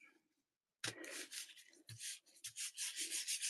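A tool rubs firmly back and forth over a sheet of paper laid on artwork, a close, dry scraping in uneven strokes after a brief quiet start.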